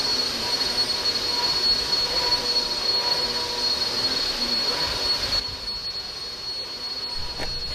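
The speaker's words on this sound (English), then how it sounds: "why exactly are we vacuuming a dirt path?" A vacuum cleaner runs outdoors on a dirt path, a loud continuous high-pitched whine and rushing hum that holds steady, then drops slightly in level toward the end, with no talking.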